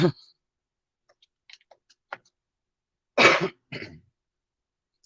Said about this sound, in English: If I drank more water, I probably wouldn't cough as much.